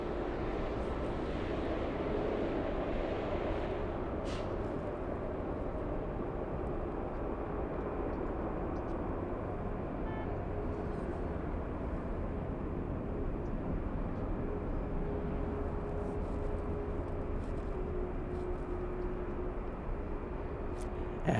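A Delta airliner bound for JFK rolls on the runway, heard as a steady, loud broadband engine roar that holds evenly throughout with no talk.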